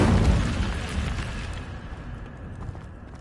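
Incendio fire spell in Hogwarts Legacy erupting as a loud, broad fiery burst at the start, then a crackling roar that slowly fades over a few seconds with no talking.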